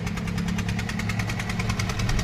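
A Maruti Swift Dzire diesel engine idles steadily, a close, even rumble with a regular knocking pulse and no voices.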